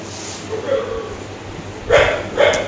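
A dog barks in short bursts, with a couple of louder yips standing out toward the end over faint background noise.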